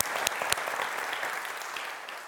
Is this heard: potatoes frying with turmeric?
no